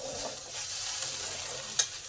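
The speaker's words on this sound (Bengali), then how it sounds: "এবার আমি একটুখানি নেড়ে নেব, যাতে একটু ভাজা ভাজা হয়" Okra and potatoes, already steamed soft, are stirred and fried in a pan, making a continuous close sizzle with scraping stir sounds and one sharp clink near the end.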